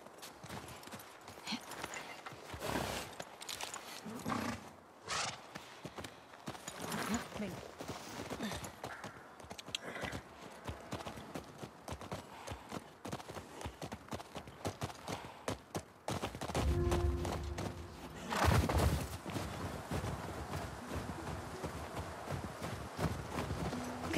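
Horse hooves clip-clop at a steady walking rhythm while riding in The Last of Us Part II, close and fairly quiet beneath ongoing dialogue, with a louder burst of movement near the end.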